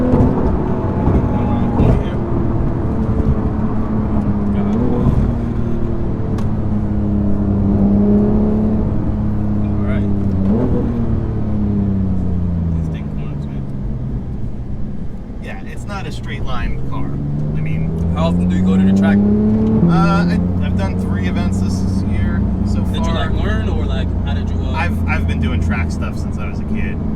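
A Porsche 911 GT3's exhaust drones and rises through the gears while cornering, revving up and easing off repeatedly while people talk over it.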